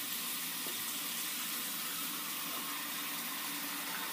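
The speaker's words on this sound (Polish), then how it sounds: "ciepła woda się leje" Warm water runs steadily from a bathroom tap into a sink, a continuous, even splashing rush at moderate volume with no voices.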